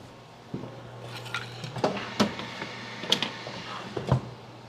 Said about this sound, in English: Forgot to get the air fry basket out.